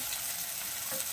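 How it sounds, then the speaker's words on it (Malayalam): Chopped onion sautéing in a pan for mutton vindaloo gives a brief, soft, steady sizzle with a faint stir near the end, close and without speech. "ഇത് നന്നായിട്ടൊന്ന് വഴറ്റിയെടുക്കാം."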